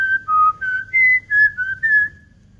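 A person whistles a short melodic tune of six clear, sustained notes to teach a myna bird, each note close and distinct with brief gaps between, over a low background hum.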